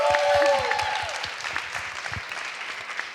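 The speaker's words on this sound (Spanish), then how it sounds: "creo que esto merece un aplauso con 3 premios Ondas" Audience applause at a podcast industry event, a dense burst of clapping that starts loud and slowly thins over a few seconds, with a voice briefly audible over the start.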